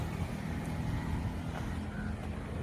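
Road traffic on a rainy day, heard as a steady low rumble of passing vehicles at a moderate distance, with no clear voices.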